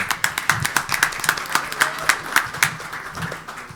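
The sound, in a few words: applause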